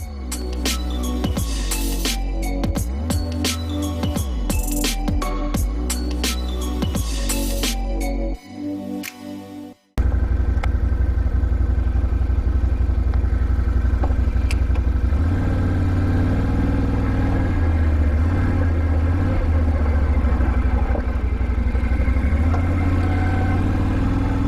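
An ATV engine runs on a dirt trail with a steady, loud, close drone and slight shifts in pitch, following a short stretch of other busier sound at the start.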